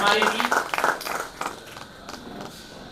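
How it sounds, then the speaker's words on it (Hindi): Audience applause welcoming a poet at a literary festival at Patna Museum, with a few loud bursts of clapping at the start that thin out into scattered, fading claps. "मैं चाहता हूँ एक बार जोरदार ताली से उनका स्वागत करें, अभिनंदन करें"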